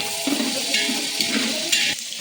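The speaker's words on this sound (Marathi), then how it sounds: "कांदा टमाटर मिरची टाकलेली आहे मित्रांनो। आता याला फिरवायचं आहे।" Onion, tomato and chili sizzle in a hot pan while a spoon stirs them in a few scraping strokes, the frying loud and close throughout.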